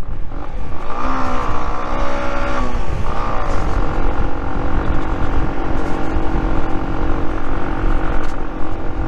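A Honda CG125 single-cylinder motorcycle engine struggling and unable to reach full throttle, droning loudly and steadily up close with wavering pitch as revs rise and sag, no speech over it.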